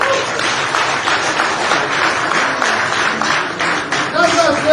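An audience claps at an interactive gathering of Nigerians in Germany, a dense, steady wash of applause that fills the whole stretch at close range, with a voice talking over it.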